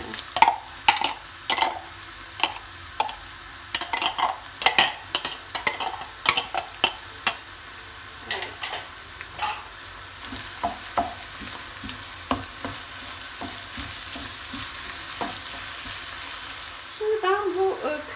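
Tomato sauce being stirred into sizzling minced meat for a bolognese sauce: a steady frying hiss under a spoon's repeated scraping and clacking against the pan, fairly close and continuous.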